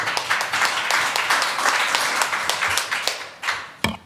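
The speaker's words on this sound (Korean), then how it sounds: "그 공감하시는 박수 좀 부탁드립니다." An audience at a talk on nuclear power and the environment claps in agreement. The lively burst of applause thins out, then ends with a single late clap.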